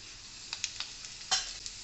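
Cumin, mustard seeds and black gram dal hit hot oil for a tempering for lemon chutney, giving a steady close sizzle broken by several sharp crackles and pops.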